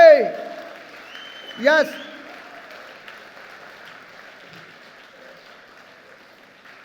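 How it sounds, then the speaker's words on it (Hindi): An audience claps for the company Renatus Wellness Private Limited at a corporate event, a faint, diffuse patter lingering steadily after a brief spoken word and a short louder burst near the start. "हमारी कंपनी के लिए जोरदार तालियां होनी चाहिए"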